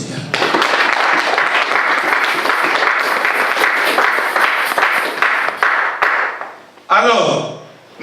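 A church congregation applauding, dense sustained clapping that fills several seconds before tapering off, followed by a voice speaking.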